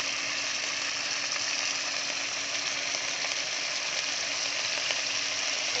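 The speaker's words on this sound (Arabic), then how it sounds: "هنشوح اللحمه بالطريقه دي لحد ما لونها يغير خالص" Beef sautés in a pan with a loud, constant sizzling hiss that runs unbroken and even throughout, with no talking.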